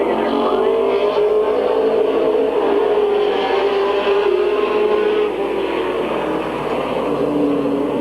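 Race cars on the track at Midvale Speedway in 1995 as the field resumes racing after a caution, a dense, steady engine roar sustained throughout with a sweeping pitch, loud and continuous.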